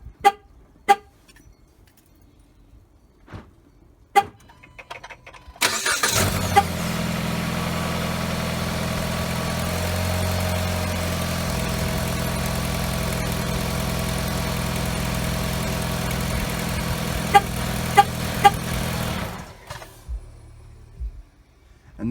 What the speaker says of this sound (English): you're gonna want to start the engine and just let it run for a couple seconds